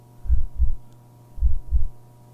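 A heartbeat sound effect in a horror short film gives two pairs of deep, loud, thumping double beats over a low steady hum.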